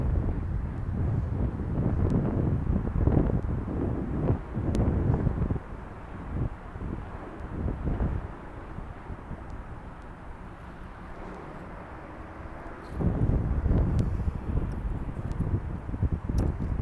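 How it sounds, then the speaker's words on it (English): Strong wind buffets the microphone in loud, rumbling gusts that ease off midway and then surge back. "It's so windy out here, I can't even keep my incense burning."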